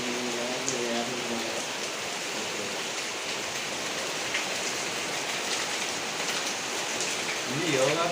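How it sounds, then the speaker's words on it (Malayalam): Heavy rain pours in a dense, constant hiss, loud and close, drumming on surfaces nearby, with brief voices near the start and end. "നല്ല അടിപൊളി മഴയാ."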